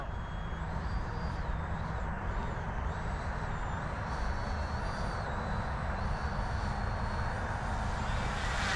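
FMS Super Scorpion 90mm EDF model jet flying overhead, a loud continuous ducted-fan roar with a high whine that shifts in pitch as it passes.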